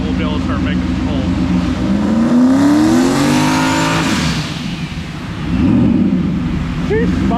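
A turbocharged car nicknamed El Toro revs on a load-bearing hub dyno, its engine rising and falling loudly in pitch through the clip, with people speaking over it.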